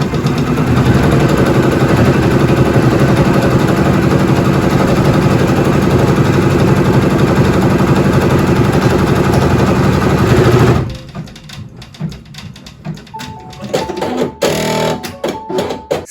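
A Brother embroidery machine stitching fabric while tacking it down for an in-the-hoop hotpad, giving a loud, steady, close mechanical whir that stops abruptly partway, followed by quieter clicks and handling noise.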